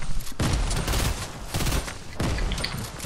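Heavy gunfire and a grenade in a shooter game, loud sustained bursts of shots and booms packed together with brief gaps, close and dense throughout.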